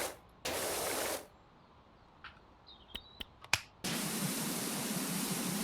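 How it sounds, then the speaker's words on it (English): Turbo-nozzle pressure washer spraying in a video game, heard as two loud broadband hiss bursts, one short and one long sustained at the end, separated by quieter clicks and snaps. "Oh, it comes off with the turbo nozzle."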